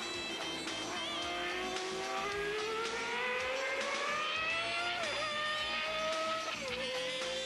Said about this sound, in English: There's actually some very, very old VHS footage of the F3000 chassis with this engine.